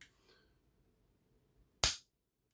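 A single sharp, loud click of a Winchester rifle trigger breaking on a 264 Win Mag, close up, after near silence.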